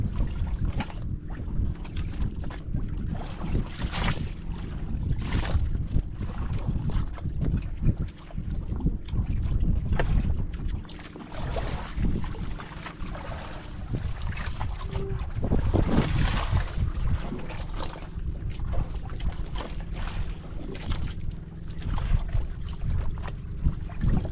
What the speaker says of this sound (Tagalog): Sa bangka, nag-ikot-ikot yung bangka.